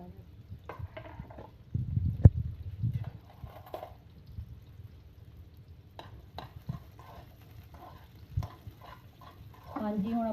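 Chopped onion for a tadka frying in a pan and being stirred, with soft sizzling and intermittent scrapes and clinks of a spoon against the pan, close up, with a voice speaking over it.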